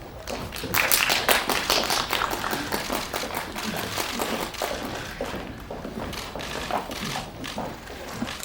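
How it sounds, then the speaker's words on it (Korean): Applause from a press-screening audience welcoming the director and cast of a film, a steady patter of many hands clapping, loudest at the start and continuing evenly throughout. "따뜻한 박수로 맞아주시기 바랍니다"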